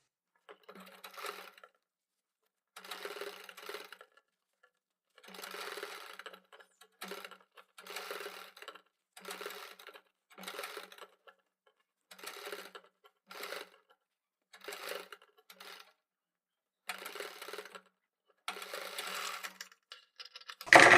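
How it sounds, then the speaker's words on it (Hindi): A sewing machine stitches beside the piping on a round neckline, running in short repeated bursts separated by silent pauses, close and moderately loud with no talking. "पाइपिंग के बराबर में सिलाई लगा देंगे"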